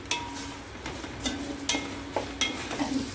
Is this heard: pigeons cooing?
no